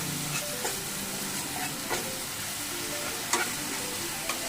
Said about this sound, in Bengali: কিছুক্ষণ আমি নাড়াচাড়া করব